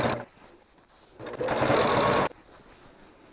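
A sewing machine runs in one steady burst of about a second, stitching binding onto a batik boho quilt throw, close and loud with quieter pauses before and after.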